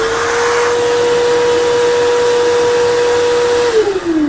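A hand dryer runs in the toilet of a Vande Bharat sleeper train, Kamakhya to Howrah: a steady, loud blowing whir with a fixed motor whine that drops in pitch and winds down near the end.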